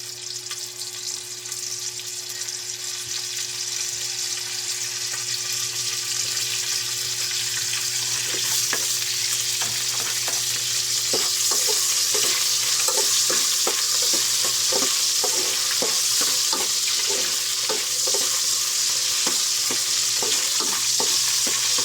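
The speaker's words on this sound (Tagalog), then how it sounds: "Right, magisa na tayo." Garlic, onion and ginger sauté in a pan, a continuous bright sizzle joined by rhythmic scraping and stirring clicks from a utensil that grow more frequent midway, with a low steady hum beneath.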